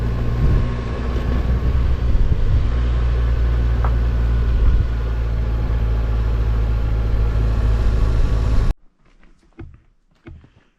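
A motorbike on road tyres rides a dirt track, a loud continuous engine drone with wind buffeting that cuts off abruptly, leaving faint scattered sounds.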